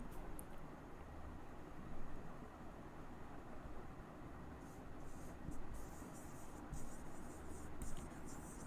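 Pen scratching steadily on paper as notes are written during a periodic table lecture, a faint continuous rasping under a broad hiss of background noise, with brief brighter strokes toward the end; no voices.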